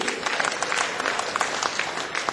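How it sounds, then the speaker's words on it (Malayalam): Audience applause at a stage event as a participant is called up, a steady dense wash of clapping hands throughout, moderately loud and without pause. "എല്ലാവരും ഉത്സാഹിച്ച് കൈയടിച്ചേ"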